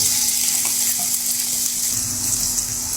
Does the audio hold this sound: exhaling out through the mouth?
no